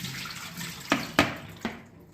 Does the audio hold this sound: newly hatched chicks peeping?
no